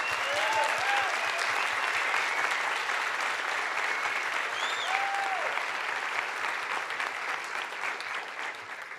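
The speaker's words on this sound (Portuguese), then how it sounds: "gostaria de solicitar à plateia uma salva de palmas para os 3" Sustained applause from a seminar audience, dense steady clapping filling the room for the whole stretch and easing slightly toward the end, with a few faint voices underneath.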